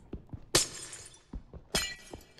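Two glass blocks shatter in a blocky video game, each a sharp crash with a tinkling tail, separated by about a second, alongside softer taps and thuds.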